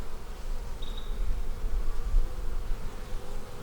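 Honey bees buzz steadily around an open beehive during an inspection, a dense, continuous drone close by with no talking.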